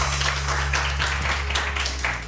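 A studio audience on a morning TV show claps for a caller in a short, even burst of applause over a steady low hum.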